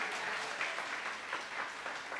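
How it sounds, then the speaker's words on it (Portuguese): Church congregation applauding during a sermon, a steady wash of clapping from many hands that swells and dips slightly, filling the room without any voices over it. "Se agora é para aplaudir então, amém?"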